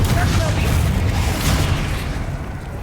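The Confringo fire spell goes off in the video game Hogwarts Legacy with a loud, deep booming blast that rumbles steadily for a few seconds amid combat noise.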